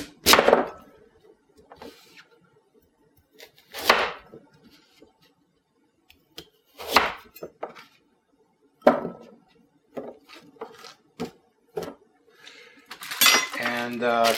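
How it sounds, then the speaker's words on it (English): A knife chops and cubes a tough raw pumpkin on a board for vegetable soup. Separate heavy thunks and clacks come every few seconds with lighter taps between them, close by, and a voice is briefly heard near the end. "now we're gonna cube this. We're gonna chop this up."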